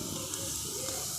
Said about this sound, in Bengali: দেখুন পেঁয়াজ আর গাজরটাকে হালকা করে ভাজা ভাজা করে নিয়েছি।